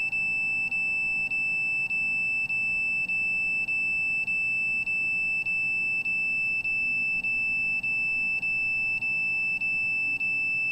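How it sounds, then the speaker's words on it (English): An electronic alarm beeps in a fast, steady rhythm for the whole stretch, roughly eighteen short, evenly spaced beeps over a constant high whine and low background hum, with no voices. "there's the alarm going off as the signals come through the cell phone"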